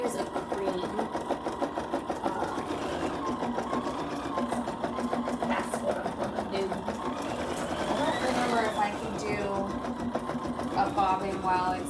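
An embroidery sewing machine stitching an in-the-hoop school banner, with a steady, fast mechanical chatter running throughout up close, and someone talking over it.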